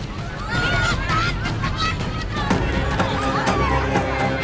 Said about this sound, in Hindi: लोग उसके विरोध में खड़े हैं, दूसरी तरफ महिलाएं चिल्ला रही हैं।